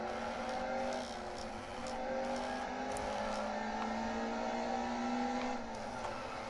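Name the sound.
race cars driving in a racing video game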